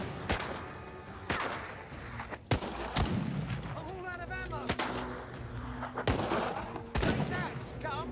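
Gunfire in the World War II strategy game Partisans 1941: about eight sharp, loud shots at irregular intervals over low battle ambience, with faint voices between them.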